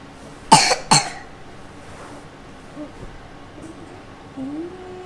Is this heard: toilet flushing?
no